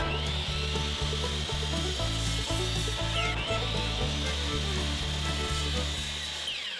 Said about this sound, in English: we're gonna try and cut it with the miter saw